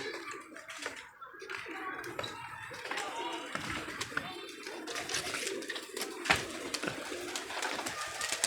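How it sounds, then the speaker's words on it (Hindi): Pigeons coo repeatedly close by at a pigeon club, soft throaty calls over a busy background with scattered taps and faint voices. "लो ये कबूतर भी आ गया"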